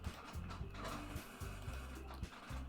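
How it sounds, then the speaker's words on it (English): A home printer whirs and clatters as it powers back on, its mechanism cycling in repeated low mechanical bursts that stay steady and fairly close throughout, with no voices over it. "My printer's just turning back on, so..."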